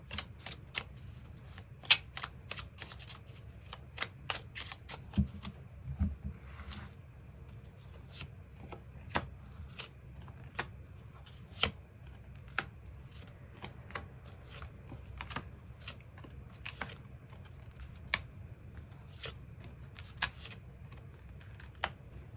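Tarot cards are shuffled and drawn at close range: a long run of quiet, crisp taps and flicks, irregular but steady, with brief bursts of riffling in an otherwise silent room.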